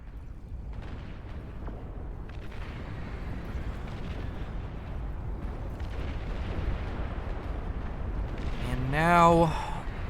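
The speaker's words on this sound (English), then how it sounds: "you just see these long-range artillery are dominating the battlefield" Long-range artillery in the real-time strategy game Beyond All Reason during a chaotic 16-versus-16 battle: a continuous wash of distant booms and rumbling blasts builds steadily, ending in a louder swelling surge.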